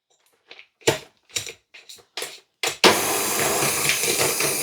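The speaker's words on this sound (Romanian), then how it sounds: "Și acum voi bate cu mixerul până se spumează untul." A few sharp clatters and taps, then an electric mixer starts up and whirs loudly and continuously as it beats butter.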